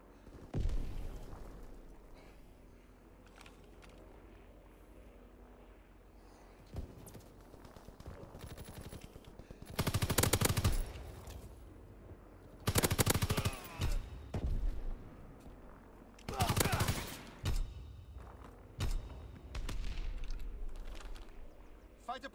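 Fighter plane strafing run in Call of Duty, with several loud, rapid bursts of gunfire in the second half, each a few seconds long, over quieter game noise and a radio-style announcer voice.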